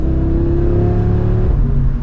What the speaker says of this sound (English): not only do we get more power, but we also get a really nice exhaust note from the factory